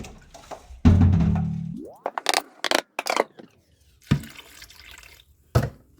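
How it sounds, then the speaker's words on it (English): Water splashes and gurgles while a blender is rinsed, with pouring and brief swishing bursts followed by short splashes. "I will rinse the blender, this blender, with water."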